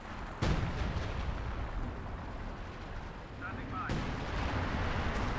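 Artillery barrage striking a Panzer headquarters in the Company of Heroes 2 game, two sharp booming impacts about three seconds apart over a dense rumbling battle bed, with a faint whistle before the second blast.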